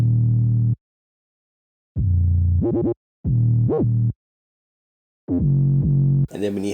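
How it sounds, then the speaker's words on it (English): Simple UK drill bass line of deep, loud sustained notes broken by silent gaps, with pitch glides sliding up and down within several notes, alone and close. "So the bass line, I kept it relatively simple, added some glides here and there"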